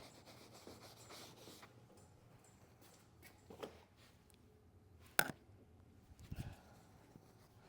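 A Scrub Ninja Max brush scrubbing cleaner into a vinyl car seat, giving a soft, steady rubbing and scratching sound with a few sharper knocks, faint and close.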